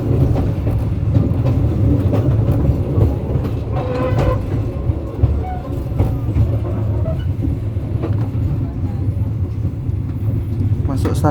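A passenger train hauled by a vintage CC 203 locomotive rolls into Kutoarjo station, a steady low rumble and rattle of the cars running throughout with brief squeals and clanks, with people talking over it.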